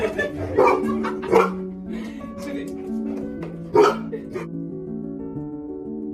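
A dog barks several times in short separate yips and woofs over background music, with a few louder barks standing out near the middle.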